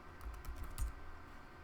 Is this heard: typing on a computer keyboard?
yes